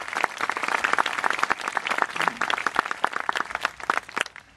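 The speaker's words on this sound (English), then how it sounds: "a round of applause for that" Sustained audience applause with dense clapping at an outdoor municipal band concert in Lincoln's Antelope Park, steady and fairly loud throughout before thinning slightly at the end.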